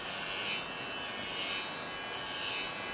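Electric pop-up trimmer switched on and running, giving a steady, close buzzing hum that stays even throughout with no talk over it.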